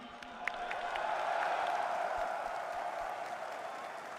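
A stadium crowd at the PGL Major Stockholm 2021 CS:GO grand final between G2 and Navi cheers and claps, a broad, distant roar that swells then holds steady.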